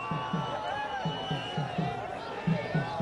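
A celebrating crowd fills a street junction at Laxmi Bhavan Chowk in Nagpur after India's cricket win over Pakistan, with young people waving the tricolour. Steady crowd hubbub and cheering form a constant wash, with a reporter talking over it.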